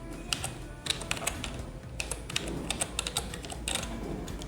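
Keystrokes on a computer keyboard tapped out at a quick, uneven pace, close and fairly quiet, with several louder clacks standing out over a low room hum; no one speaks.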